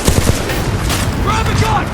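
Rapid bursts of gunfire from Titanfall 2 crackle over a loud, churning battle roar, with shouting voices mixed into the chaos.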